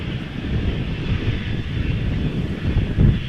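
A KLM airliner at Amsterdam Schiphol runs its engines on the runway before a short flight to Düsseldorf, heard as a continuous low, rumbling roar mixed with wind buffeting on the microphone.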